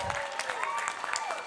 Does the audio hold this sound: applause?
yes